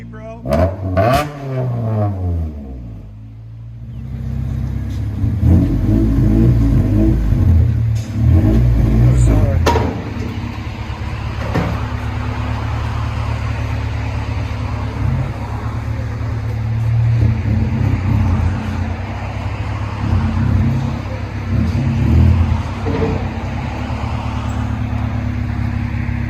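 1992 Honda Civic with dual exhaust and blast pipes, engine revving loudly in bursts then settling into a rumbling idle close by, with a voice talking over parts of it.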